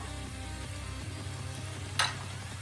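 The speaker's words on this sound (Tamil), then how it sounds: "இப்ப இதுல வறுத்த முந்திரி பருப்பை சேர்த்துக்குவோம்." Roasted cashews tumbling into a pan of ghee rice, heard as a steady soft sizzle with faint stirring scrapes and one brief bright rattle of nuts hitting partway through, close and without any talk.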